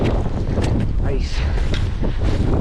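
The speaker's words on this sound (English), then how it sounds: "Whoa. Windy." Strong wind buffets the microphone near a snowy mountain peak during a snowstorm, a loud continuous roar with gusts, and a person speaks briefly over it.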